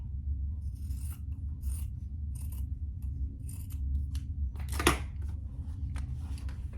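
Scissors snip through fabric lining during a sewing project, a series of short crisp cuts in irregular rhythm close up, with one louder slicing stroke near the end over a low background hum.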